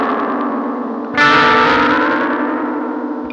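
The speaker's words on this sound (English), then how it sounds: "Right now we're on sine wave, so it's like a smooth transition between the modulation." A guitar or synth tone through an effects unit set to a sine-wave modulation shape, sustained and smoothly wavering, with a brighter, louder swell entering about a second in and gradually fading; distorted and echoing, no talk.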